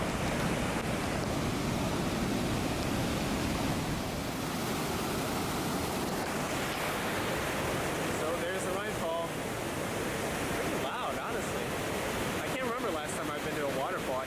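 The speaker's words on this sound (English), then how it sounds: "Waterfall." The Rheinfall waterfall in Switzerland roaring as a steady broad rush of falling water, heard from a viewpoint with wind buffeting the microphone and faint voices nearby.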